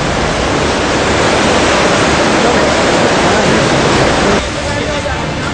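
Swollen Ganga floodwater rushing in a loud, steady broadband roar that fills the whole stretch, dropping slightly in level near the end as the torrent continues unbroken.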